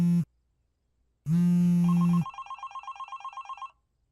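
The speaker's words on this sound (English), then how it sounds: "Is that my phone?" A phone rings in short bursts, a low buzzing tone followed after a pause by a longer ring that breaks into a rapid trilling bell pattern, loud and close with no talk.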